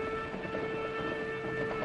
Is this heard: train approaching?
yes